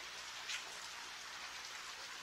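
Rain falls in the video game Radiant Historia as a soft, steady hiss with a faint patter, quiet and unbroken, with no voices.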